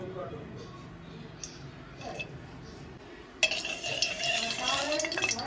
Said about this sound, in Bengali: কড়াই চাপিয়ে দিয়েছি, এখন আমি সর্ষের তেল দিয়ে দেব।